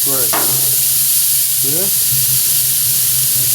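A flat iron steak sizzles loudly on a hot grill just after being flipped, a steady close hiss and crackle throughout, with brief bits of a voice over it.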